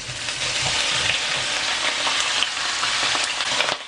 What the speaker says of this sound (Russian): Мясо надо обжарить.